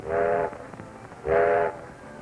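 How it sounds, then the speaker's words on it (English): Two long steady locomotive whistle blasts from a Great Northern Railway train on a repair track, the first lasting about half a second and the second slightly longer, over a low rumbling background. "An engineer sounds the whistle to come in on the repair track."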